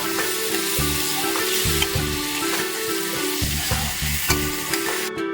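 Bhola fish curry with potato and brinjal being sautéed in a pan: a continuous close sizzle with scraping stirring strokes, over a stepping tonal melody in the background.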